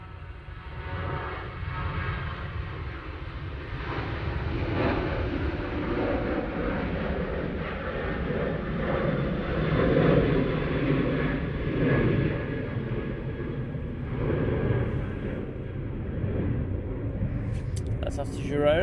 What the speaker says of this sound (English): Oh yeah, it's departure. It's Ryanair.